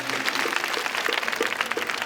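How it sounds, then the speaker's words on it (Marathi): An audience claps together for the hostess at a Home Minister event in Sambhajinagar, a steady dense patter of many hands held at an even level for a couple of seconds. "दोन्ही हात वर करून ताईंना शुभेच्छा द्या टाळ्या वाजवून"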